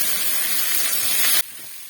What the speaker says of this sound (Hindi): अब मैं इसके अंदर कीमा ऐड कर दूंगी। और इसको भून लूंगी।